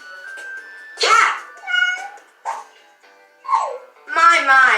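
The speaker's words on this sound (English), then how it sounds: "It's a cat." A cat meows several times in short, separate calls, fairly close and clear, in a children's animal story.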